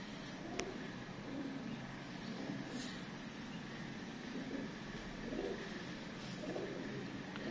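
Pigeons kept by a breeder coo softly in a low, repeating murmur that stays faint and steady against a constant background hum, with no clear talk.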